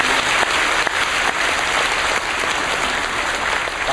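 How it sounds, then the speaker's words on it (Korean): A congregation at a church baptism service applauds, loud, close, continuous clapping with a few stronger accents and no voices over it. "우리에게 은혜를 베푸신 하나님께 영광의 박수를 드립니다."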